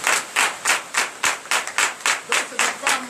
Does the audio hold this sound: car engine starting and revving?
no